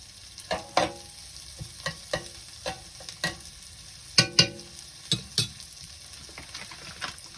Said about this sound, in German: ich gebe noch mal ein bisschen Butter mit hinzu